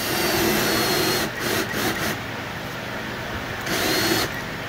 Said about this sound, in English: I got a 1/2 inch drill, and we're going to make a starting hole here